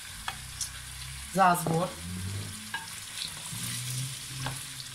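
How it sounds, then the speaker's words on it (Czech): Hokkaido pumpkin, potatoes, parsley and ginger fry in a pan while being stirred, with soft sizzling and scraping under brief talk. "Musíme to promíchat a nechat to s tím 2-3 minuty ještě takhle trošku posmažit"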